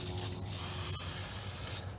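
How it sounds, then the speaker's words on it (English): Compressed air hisses steadily as it blows dust and debris out of a Hemi engine block during rebuild prep, a continuous close, loud spray with a brief pop near the middle. "then I'm gonna spray the walls here"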